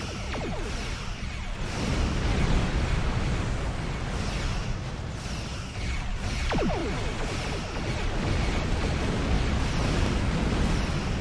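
A dense, continuous roar of starship weapons fire and rumbling explosions fills a space battle against Romulan ships in Star Trek Online, with sweeping whooshes over a heavy low-end wash.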